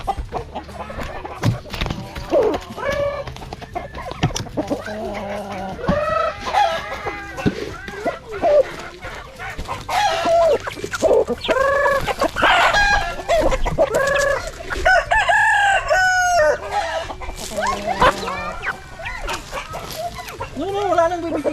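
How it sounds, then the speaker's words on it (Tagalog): Pet chickens at feeding time cluck repeatedly and a rooster crows several times, close and lively, while a person talks over the birds and a dog is briefly heard. "Dito lang tayo, pakain tayo ng mga alaga nating manok."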